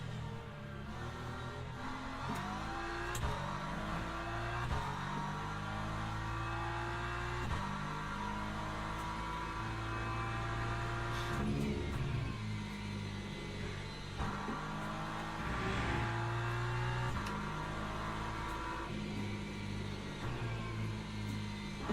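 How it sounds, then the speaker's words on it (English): Engines of many McLaren GT3 race cars in Le Mans Ultimate at Silverstone National, a steady droning roar with rising and falling pitch as the cars shift gears, continuous throughout. "A lot of McLarens on the track here."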